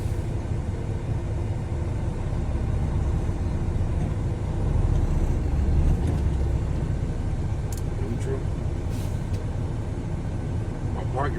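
A truck idles in drive during a parking brake tug test, a steady low engine rumble that holds for the whole stretch, with a few faint higher clicks and hisses near the end.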